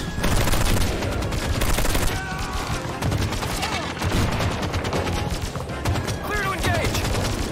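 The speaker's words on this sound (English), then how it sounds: "Halo Infinite Assault Rifle sound, I think." Halo Infinite assault rifle fire in a Halo fan animation: dense, rapid bursts of automatic gunfire rattling continuously at close range, with other battle noises mixed in.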